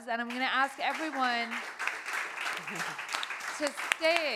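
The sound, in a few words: audience applause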